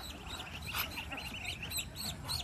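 Ducklings calling in high, thin repeated peeps, fairly faint over a low background murmur, several overlapping chirps spread through the moment.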